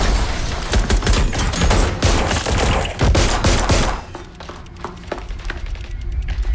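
Rapid gunfire rattles through a raid in Watch Dogs Legion, dense bursts with thuds for about four seconds, then dies down to sparse scattered shots and clatter.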